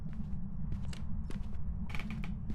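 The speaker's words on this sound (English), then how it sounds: "Hear the doors close?" Doors closing during a ghost hunt in the horror video game Phasmophobia: a few dull knocks and thuds scattered over about two seconds, moderately loud over a steady low rumble.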